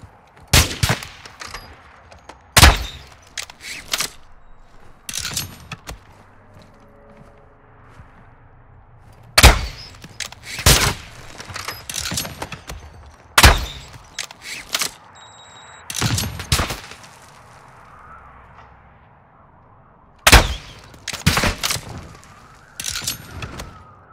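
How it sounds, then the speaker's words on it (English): Sharp gunshots and short bursts of gunfire in Modern Warfare 2 DMZ, loud and close, clustered in separate volleys with quieter gaps between them. "Taking effective fire!"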